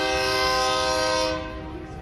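A loud train horn holds a steady chord, then cuts off and leaves a lower rumble from the passing train.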